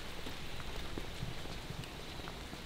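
Steady rain falling outdoors near a metal fabrication workspace, a continuous even hiss with scattered faint drops, moderately quiet.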